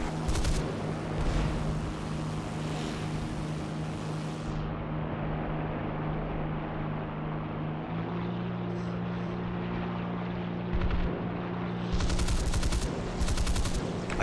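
Aircraft cannon fire in a Tempest versus Sea Fury video game dogfight, short rattling bursts over a continuous droning engine, with more bursts near the end.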